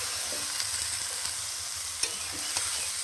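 Vegetables stirred in a frying pan over a constant loud sizzle, with occasional soft scrapes and knocks of the spoon, close up and without talk.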